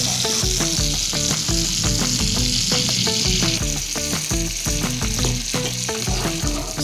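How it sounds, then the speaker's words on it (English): Cornbread batter fries in plenty of salted butter in a cast iron skillet, a close, steady sizzle with rapid crackling pops running throughout. "Simmer in that salted butter for a minute, and that's gonna give it a really good crust"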